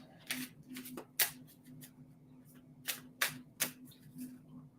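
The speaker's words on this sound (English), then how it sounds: "As soon as I start shuffling the cards" Tarot cards are shuffled by hand in a series of crisp riffles and snaps, with sharper bursts scattered irregularly over a faint steady hum in a quiet room.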